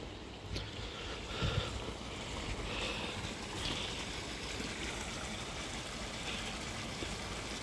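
A stream flows under a footbridge in dark woods, giving a steady, faint rushing wash of water with no break in the flow.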